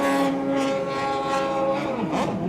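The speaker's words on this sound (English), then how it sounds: "I think either David Cabrera's boat got louder or my hearing just cleared." A loud, steady engine drone with a strong buzzing tone from a racing personal watercraft at a Pro Watercross race in Sebring, close by, shifting pitch briefly near the end.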